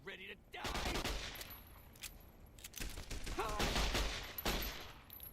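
Rapid gunfire from a weapon in the video game Fallout New Vegas, a dense burst of loud cracks and rattling shots over a couple of seconds, with brief mechanical clicks and a short tonal blip.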